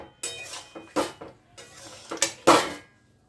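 A spoon stirs paneer kofta mixture in a pan with ghee, giving a string of irregular metallic clinks and scrapes against the pan, close and fairly quiet, with no talk.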